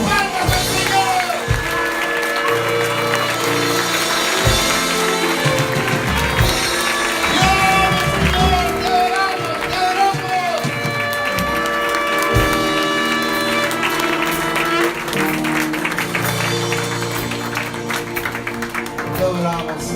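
A church congregation claps for the Lord during a worship service, loud rhythmic clapping running throughout alongside music, singing and shouted praise.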